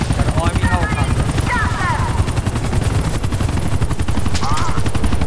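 A video game scene with an army helicopter: rapid bursts of gunfire and a thudding rotor fill the scene, loud and constant, with shouted voices mixed in.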